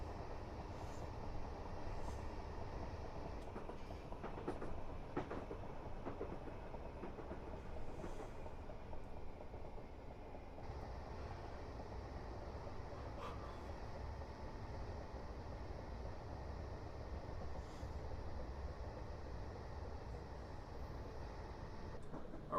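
Passenger train on the Portsmouth Direct Line slowing under 30 mph on the approach to Godalming station, a steady close rumble of wheels and running gear with faint rhythmic rail clicks throughout, no voices.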